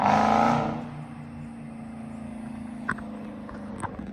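A debadged Dodge Charger Scat Pack pulls away with a brief loud engine surge, then its steady exhaust drone fades into the distance while two faint clicks sound later.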